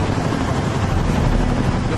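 A military helicopter makes a loud, close, steady rotor rumble as it passes over an NFL pregame, with wind buffeting the microphone throughout.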